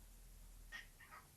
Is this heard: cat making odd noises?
yes